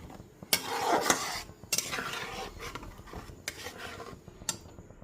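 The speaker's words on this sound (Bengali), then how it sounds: "সমস্ত মশলা আমি গ্যাসের ফ্লেমটা লোতে রেখে একটু সময় নিয়ে খুব ভালো করে কষিয়ে নেব" Spice paste with tomato cooked down on a low gas flame for a paneer dish with kasuri methi, a utensil scraping and rubbing against the pan in irregular strokes over a soft sizzle, close and quiet.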